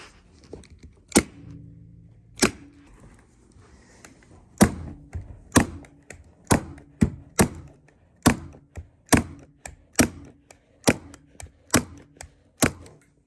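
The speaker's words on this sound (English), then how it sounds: "let's give it a staple right there" A staple gun fires into a stair runner carpet on a stair landing, giving a series of about fifteen sharp, close snapping shots at uneven intervals, each standing alone over near silence.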